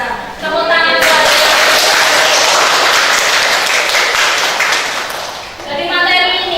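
A classroom of students bursts into loud, sustained applause, many hands clapping close by for several seconds before the noise tapers off, with a voice heard at the start and again at the end.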